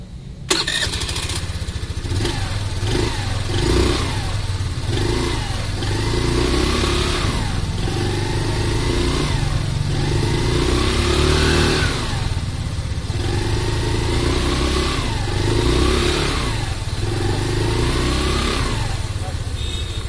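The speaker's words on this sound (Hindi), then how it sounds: "अब आप इस स्कूटर का एग्जॉस्ट नोट सुन लीजिए।" A Hero Destini 125 FI BS6 scooter starts up and idles, its 125 cc fuel-injected engine giving a steady close putter, then blipped several times into rising revs that fall back, with no speech over it.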